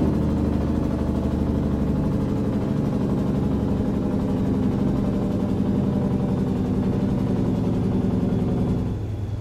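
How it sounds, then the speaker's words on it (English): A semi truck's jake brake in American Truck Simulator: a steady, throbbing low engine drone holds at even loudness throughout, then eases off slightly at the very end. "Listen to the jake brake on this."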